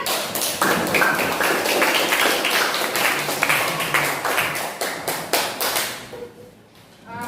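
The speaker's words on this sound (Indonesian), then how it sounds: "tepuk tangan untuk Aziza." A class claps and applauds steadily for several seconds, dense overlapping hand claps that taper off near the end.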